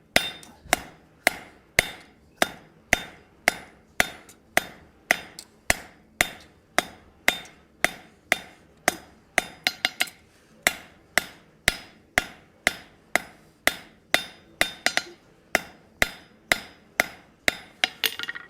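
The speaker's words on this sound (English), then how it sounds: "Some nice, quick, careful hammer work can save you a lot of time." A hammer strikes hot metal on an anvil while a simple hinge is forged. The blows are sharp, loud and close, landing in a quick, steady rhythm of dozens of hits with brief pauses.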